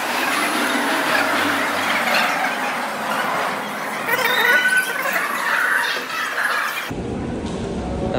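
A metro train squeals inside an underground station, with a sustained, shifting metallic screech over rumbling rail noise that cuts off abruptly near the end.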